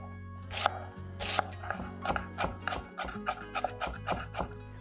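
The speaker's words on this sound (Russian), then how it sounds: "беру пару репчатых луковиц и меленько нарезаю" A knife taps steadily on a cutting board as a couple of onions are finely chopped, crisp, close-up strokes coming in a quick, slightly uneven rhythm with no talking.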